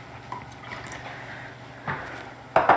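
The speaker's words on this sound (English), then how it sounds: "Got some white wine vinegar." White wine vinegar pours and splashes into a bowl of vegan mayonnaise ingredients, soft liquid drips and a few wet bursts close by, with no talking.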